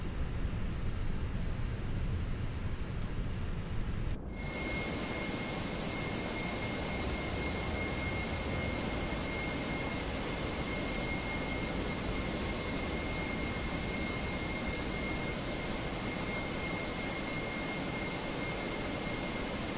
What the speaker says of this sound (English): Let's fire up number engine 1